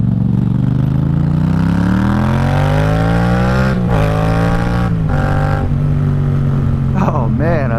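A Yamaha FZ-07 motorcycle engine pulls loud and close as it accelerates, its pitch climbing through several gear shifts, and a rider's voice cuts in briefly near the end.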